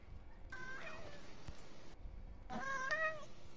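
A cat meows twice, close and fairly quiet, with a pause between the two calls and a soft background hush.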